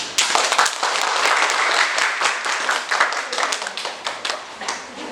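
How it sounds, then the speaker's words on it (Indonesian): Classmates clap after a group presentation in a school lesson, a lively burst of crisp, close hand claps that thins into scattered, separate claps toward the end. "Ya, tepuk tangan."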